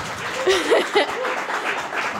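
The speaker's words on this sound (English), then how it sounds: "I think you deserve another round of applause" A crowd applauds with steady clapping and a few cheers, sustained for a couple of seconds at moderate loudness.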